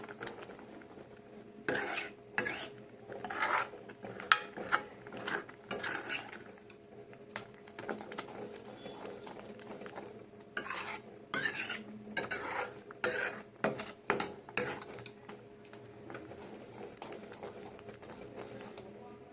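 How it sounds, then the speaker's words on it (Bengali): Carrot halwa stirred in a pan with a metal spoon, repeated clattering scrapes in bursts separated by quieter pauses, close and fairly clear. "এভাবে নাড়িয়ে নাড়িয়ে দিতে হবে তাহলে জিনিসটা সুন্দর হয়ে যাবে"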